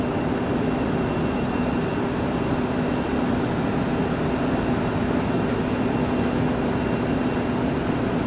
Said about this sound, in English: Spirit 1115 is the King Air taking the runway for departure